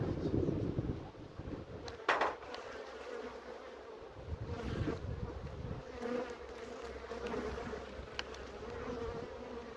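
Honey bees at a beehive, a dense continuous buzzing hum close to the microphone with light wind noise and occasional louder passes of individual bees.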